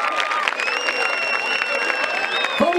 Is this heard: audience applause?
yes